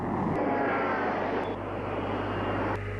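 Airplane at Kuwait airport, a steady, loud broadband roar of aircraft engines holding constant for a few seconds with no talk.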